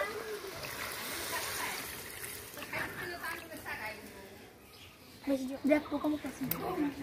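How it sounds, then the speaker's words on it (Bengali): Water is poured into a pan of browned chicken gravy on a village kitchen stove, a steady splashing pour running for several seconds, followed by bubbling and sizzling as the liquid hits the hot pan. "মাংস কষানো হয়ে গেছে, এবার জলটা দিয়ে নেব।"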